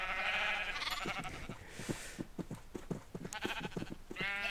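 Sheep bleating in Minecraft, a rapid run of short, repeated bleats from a flock of several animals, close and fairly clear, with a few longer cries at the start and end.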